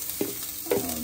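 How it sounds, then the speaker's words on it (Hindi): Cabbage and mixed vegetables frying in a pan, with two short stirring scrapes over a soft, steady sizzle, close and fairly quiet. "थोड़ा सा फ्राई कर लेंगे"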